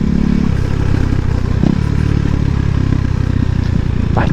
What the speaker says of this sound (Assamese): ভিডিঅ' তোমালোকক দেখালোঁ চাউণ্ডটো KTM RC390 এক্সজষ্ট খুলি থ'লে শুনালোঁ